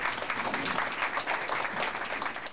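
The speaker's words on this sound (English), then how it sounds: "Hugs and applause greeting Miami-Dade Superintendent Alberto Carvalho." A crowd applauds steadily to greet Miami-Dade school superintendent Alberto Carvalho at Miami high school, dense continuous clapping of moderate loudness throughout.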